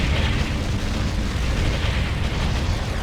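An enemy structure blows up in the real-time strategy video game Ground Control, a loud, dense, roaring blast that fills the whole stretch without letup, with no voices over it.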